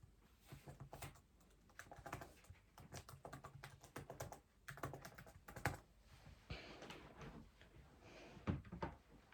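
Typing on a Magegee MK STAR75 keyboard at a table, a steady run of close, crisp key clicks in uneven bursts with short pauses, no voices.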